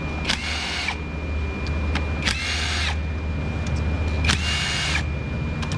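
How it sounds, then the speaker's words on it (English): Power tool whirring in three distinct bursts as 10mm bolts are driven out of the valve cover on a GMC Terrain, each burst rising and winding down, heard close with a steady low engine-bay hum between them. "So I guess we'll just go ahead and start removing some bolts and see if we get hung up."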